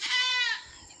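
A single native goat lets out a short, wavering bleat close by, lasting about half a second before dying away into quiet.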